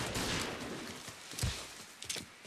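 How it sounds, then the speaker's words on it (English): Gunfire in the video game Mafia III, a faint, distant crackle of shots mixed with a few duller thumps, scattered and irregular in rhythm rather than one steady burst. "She's shooting that fool."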